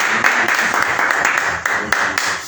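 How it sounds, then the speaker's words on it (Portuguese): Church congregation clapping together, a dense continuous applause with rhythmic accents, steady and fairly loud for the whole stretch. "As palmas são para o Senhor Jesus,"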